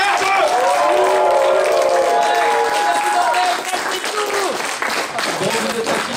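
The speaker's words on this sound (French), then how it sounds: "tout le monde applaudit." An audience at a tabletop role-playing tournament awards ceremony in Gémenos breaks into sustained applause, dense clapping close by and fairly loud, with voices rising over it at times.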